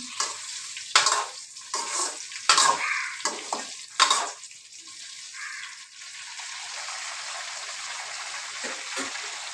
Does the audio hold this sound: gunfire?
no